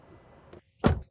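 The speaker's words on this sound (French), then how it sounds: "Le bruit de la porte, c'est fantastique." A Skoda Superb car door shuts with a single solid, deep thud up close, following a faint low rumble and a brief pause of near silence.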